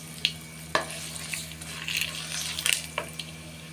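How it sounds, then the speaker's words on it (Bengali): A tempering of dried red chilies and bay leaf crackles in hot mustard oil, with a steady low sizzle broken by sharp pops and a couple of spoon clicks, close and unaccompanied by speech. "শুকনো লঙ্কা তেজপাতা ফোড়ন দিলাম।"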